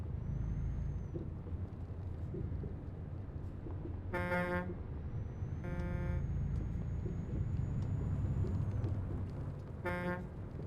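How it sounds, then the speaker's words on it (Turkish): A vehicle horn honks in three bursts, one longer and two shorter, over steady road and engine noise heard from inside a vehicle on a mining road near Kirkenes. "Dönüşte bir korna çalayım bakayım verecek mi?"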